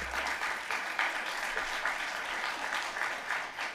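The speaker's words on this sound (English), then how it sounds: "Please give her a round of applause." Audience applause at an awards ceremony in the San Francisco Public Library, a steady dense patter of clapping from a crowd, heard from some distance and sustained throughout.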